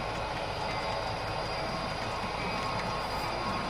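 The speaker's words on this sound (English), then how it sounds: "So let's get the Amtrak rolling." A model Amtrak train runs on a home-office layout, giving a continuous, fairly loud rolling clatter and whirring of wheels and gears on track.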